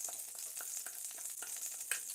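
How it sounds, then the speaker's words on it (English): Hoe cakes made from cornmeal and boiling water cook in a hot pan, giving a soft, steady sizzle with scattered crackles and pops, fairly quiet and close, with no one talking. "I use boiling water for my hoe cakes, and so these things are already cooking."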